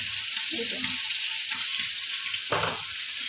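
Bitter gourd and potato frying in a pan, with chili and onion mentioned in the dish, give a steady, loud sizzling hiss throughout, broken by a few short scraping stirs; no one speaks.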